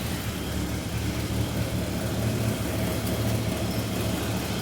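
A 1965 Ford Mustang convertible engine idles in a steady, even low rumble, close and continuous, with no talking over it.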